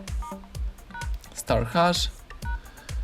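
Keypad tones from a Xiaomi Mi Mix 2 phone dialer as a secret test code is entered, a rapid series of short beeps in an uneven rhythm, close and clear, with a person talking over them.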